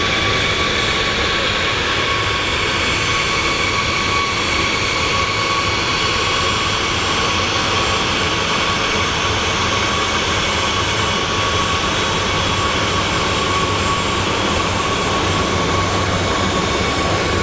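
Jet airliner on the Sacramento flight at Phoenix Sky Harbor International Airport, a steady broadband roar holding at an even level for the whole stretch, with no voices.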